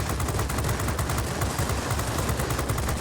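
Rapid, dense bursts of aircraft machine-gun fire from a World of Warplanes XP-50 fighter rattle continuously for a few seconds, a fairly faint, steady stream of crackling shots.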